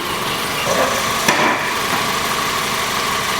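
A car engine idles steadily with the automatic transmission in park during a fluid level check, a constant low hum with one brief knock partway through.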